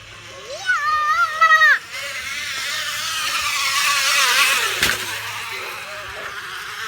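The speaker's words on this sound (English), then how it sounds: "I think that sounds like a street bike, doesn't it?" A bicycle rigged to sound like a street bike, giving a buzzing, revving motor-like drone that rises and falls, with a person talking briefly over it at the start.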